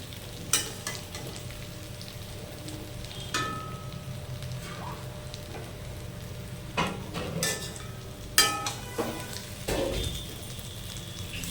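Steamed green banana slices frying in a pan on a gas stove, a continuous close sizzle with several sharp clatters and scrapes as the pieces are turned.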